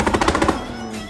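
Firecrackers go off in a rapid, loud, close string of crackling pops for about half a second, then fade into a lingering ring.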